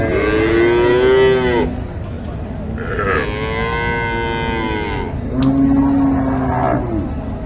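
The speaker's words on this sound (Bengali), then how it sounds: "ক্রস গরু দেখছি" Crossbred cattle at a livestock market in Joypurhat, Bangladesh, give three long, loud, close moos in a row, with a low grunt between calls.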